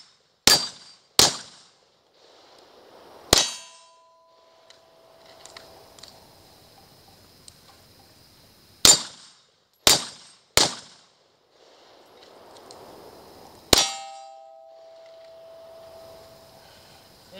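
A 20-round magazine fired off at a night shoot, loud sharp gunshots cracking out one at a time at uneven intervals, each followed by a ringing metallic ping and a brief echo in otherwise quiet surroundings.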